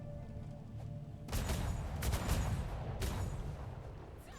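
A roleplay game volley of gunfire from a ship's firing unit, several sharp loud bursts starting abruptly after a quiet stretch, with a few separate cracks among a rumbling barrage.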